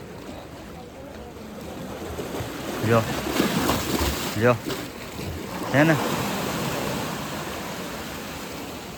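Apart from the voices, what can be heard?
waves crashing at Gomti Ghat, Dwarka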